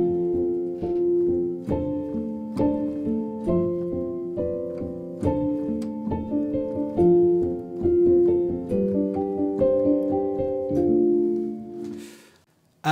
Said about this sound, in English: That is the sound of Alt Piano.